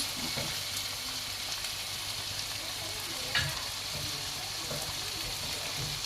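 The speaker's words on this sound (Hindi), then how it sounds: "अच्छे से कैप्सिकम, प्याज, टमाटर, अदरक, इन सबको अच्छे से आप मिक्स कीजिए।" Capsicum, onion, tomato and ginger stir-fry in a pan with a constant hissing sizzle, broken by occasional spatula scrapes and one sharper clack midway.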